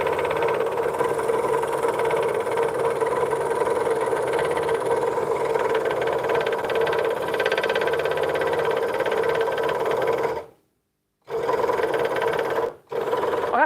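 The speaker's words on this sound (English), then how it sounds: "I have to admit, this motor on here is a lot quieter than the old one." A scroll saw motor runs with a steady mid-pitched hum and a fine rapid vibration for about ten seconds, then abruptly stops and restarts twice in quick succession.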